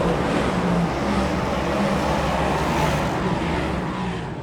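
Stock car engines roar in a continuous, loud drone on an oval track at a night meeting in Rotorua, New Zealand, with several cars blending into one steady engine wash and no clear passes.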